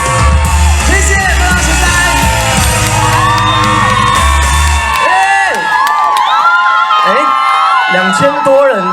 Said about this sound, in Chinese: 2000多人的尖叫声不止这样子哦